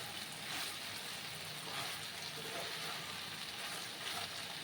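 Okra and potato frying over a low gas flame give off a steady, even sizzle with a soft watery hiss, close and continuous, with no voices.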